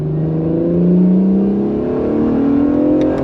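Acura NSX hybrid supercar with turbo engine and electric motors accelerating hard, a loud close engine roar rising smoothly in pitch without pause, heard alone.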